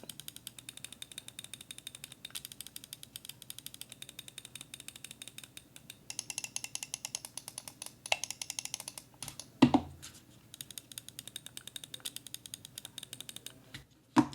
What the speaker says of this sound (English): I'm gonna grab my favorite mouse clicks at the moment, which are the Pulsar Crazy Light.